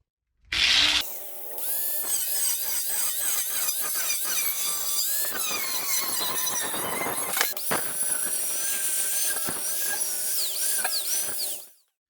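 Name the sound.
power tool cutting metal for C10 kick panels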